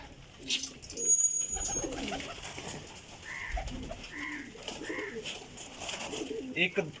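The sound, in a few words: pigeon cooing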